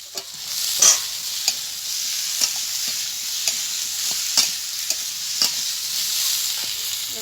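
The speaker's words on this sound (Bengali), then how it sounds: "আলুগুলো আমার ভালোভাবে ভাজা হয়ে গেছে। এবার ভাজা পটলগুলো এর সাথে নেড়ে" Fried potatoes and pointed gourd, with a little turmeric, are turned in a pan over a steady bright sizzle, with a spoon scraping the pan at irregular intervals about once a second, close and clear.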